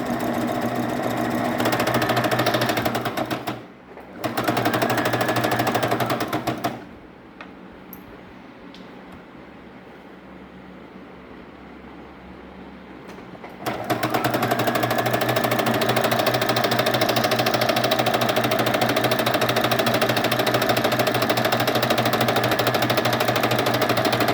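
A sewing machine stitches around the hem of a large circular umbrella gown, a loud steady rattling hum that cuts out briefly, drops to a quiet lull for several seconds, then resumes running continuously.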